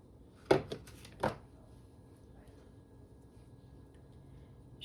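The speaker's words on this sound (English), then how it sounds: "Shushu heard plastic opening up" Plastic packaging gets opened in a quiet kitchen: two or three short, crisp crinkling bursts near the start, then near silence with faint background noise.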